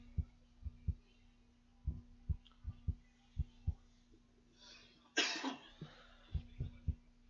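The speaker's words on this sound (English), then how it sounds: "Sorry for the coughs." A single harsh cough bursts out midway, loud and close, between soft regular thumps that keep pulsing before and after.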